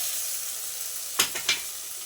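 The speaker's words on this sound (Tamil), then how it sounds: "தக்காளிலாம் இந்த எண்ணெயிலே நல்லா வணங்கட்டுங்க." Tomatoes fry in oil with a steady soft sizzle, broken by two quick scraping presses as a ladle mashes them against the pan.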